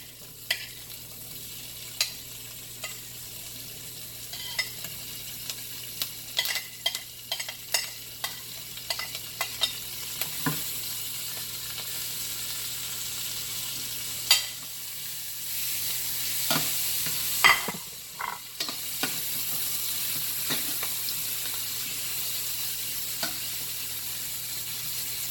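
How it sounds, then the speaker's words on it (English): Onions and garlic sautéing in a pot for pot roast, a steady close sizzle with frequent clicks and scrapes of stirring, a few louder clatters mid-way, no talking. "I'm going to saute the onions and garlic first."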